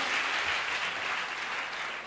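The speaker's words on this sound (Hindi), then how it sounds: "इनका भी स्वागत कीजिए तालियों के साथ" Steady applause from a crowd at a public forum in Morena, India, a dense wash of clapping that holds throughout and fades slightly at the end.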